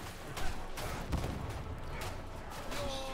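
Chaotic combat in Warhammer 40,000: Darktide, with a sharp blast and dense bursts of gunfire and impacts layered over one another throughout.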